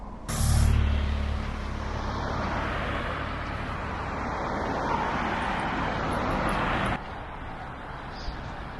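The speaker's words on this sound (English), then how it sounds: "And we're just approaching a really busy road" Steady roar of traffic on a busy road beside a riverside walking path near a medieval town, a broad continuous wash of passing vehicles with a louder rumble early on, then an abrupt drop in level near the end.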